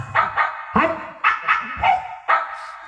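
A dog barks repeatedly and close by, about seven sharp, evenly spaced barks in quick succession with little else around them.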